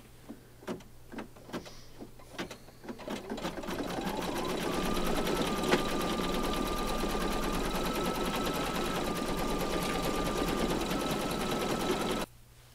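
A home embroidery machine stitches a zigzag outline around a heart on an in-the-hoop Valentine placemat, starting with a few separate clicks before settling into a steady, fast, close mechanical whir that runs until it stops abruptly near the end.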